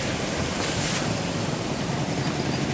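A swollen river after heavy rains in Juma, Bonao rushes loudly and steadily, a dense continuous roar of churning water with some wind buffeting the microphone, no speech.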